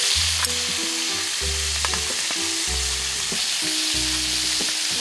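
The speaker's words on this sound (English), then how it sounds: "cook about 10 to 15 minutes until the chicken is perfectly golden brown" Chicken frying in a wide paella pan in Valencia, a steady, close sizzle with crackles and occasional stirring, while low tonal hums pulse underneath in several evenly spaced bursts.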